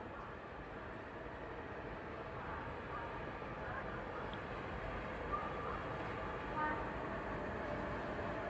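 A Bhuj–Bareilly train stands at platform 1 of a railway station, producing a steady, continuous rumble and hum throughout with faint distant tones, while people talk nearby.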